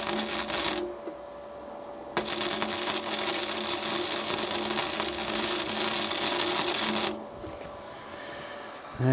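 Gasless flux-core MIG welding with an R Tech MIG 180: a steady, dense crackling buzz runs for about five seconds after a short opening burst, then cuts off, close and fairly loud with no talking.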